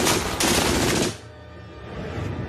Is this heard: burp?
no